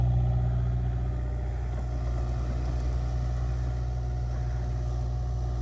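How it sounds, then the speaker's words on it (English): A diesel truck left running after a blizzard, its engine idling steadily with a low, even rumble from start to finish and no voices over it. "I left the diesel truck running."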